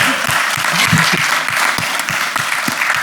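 An audience at a fantasy illustration convention talk gives steady, dense applause, with many hands clapping loudly and continuously from start to finish.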